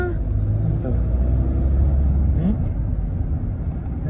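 Steady low engine rumble from inside a Ford Figo car being driven on the road, with people talking over the continuous drone.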